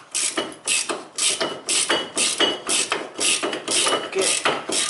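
Rapid bursts of a ratchet wrench clicking while loosening bolts on a car brake caliper, about a dozen loud, close strokes in a steady rhythm with no talk.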